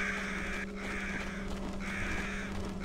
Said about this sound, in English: Hey, birds. You guys are pretty good at hovering.